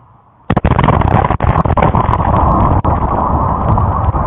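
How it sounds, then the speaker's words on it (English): A distant explosion breaks in abruptly about half a second in, then rolls on as a loud, sustained booming roar to the end, with no voices. "Now that explosion was some distance away."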